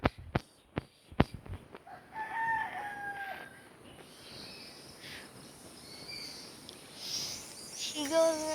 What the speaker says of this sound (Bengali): এখানে কি আমাদের মুরগি ডাকলো, মুরগি বাচ্চা ডাকলো।